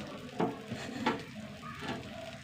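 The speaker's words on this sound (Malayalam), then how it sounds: "കുറച്ച് നെയ്യ് ഒഴിച്ച് കൊടുക്കട്ടെ" Ghee goes into a hot pan while masala dosa is made, giving a faint, soft sizzle broken by a few scraping stir strokes, quiet and close, with no talk.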